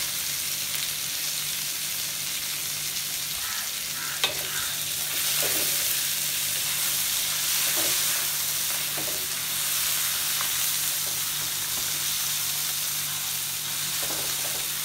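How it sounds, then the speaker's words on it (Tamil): Tomatoes sizzle and fry steadily in a pan for a Chettinad crab masala, a constant close hiss with occasional soft stirring scrapes, and no talking. "துமேத்தோ நல்லா வதங்கணும்."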